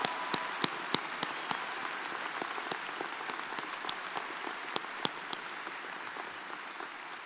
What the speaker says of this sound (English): let's give them all a welcome round of applause